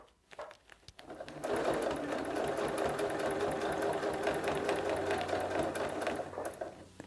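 Sewing machine quilting fabric along a ruler with a ruler foot, starting with a few short stitch bursts, then running steadily in a fast, even mechanical chatter for several seconds before stopping, close and alone.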